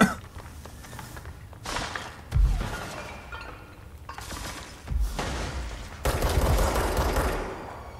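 Bursts of video game gunfire aimed at an enemy, several separate volleys of rapid shots with sharp onsets and quieter gaps between them, close and fairly loud.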